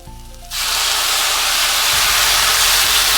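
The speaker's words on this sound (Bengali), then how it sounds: "দেখো আধা মিনিট মতো ভেজেছি শাক কত কমে গেছে এবার দিয়ে দেব অল্প জল" Water splashes into a pan of frying jute leaves, setting off a sudden loud, continuous hiss of steam and sizzle that holds steady after a brief quiet start.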